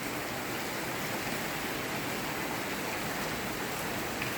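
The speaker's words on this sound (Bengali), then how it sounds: "সকাল থেকে বৃষ্টি হচ্ছে।" Rain falling outside a house after a long morning of downpour, heard as a continuous, even, moderately loud hiss with no breaks and no voices.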